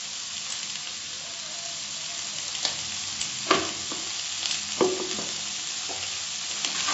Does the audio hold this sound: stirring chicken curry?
yes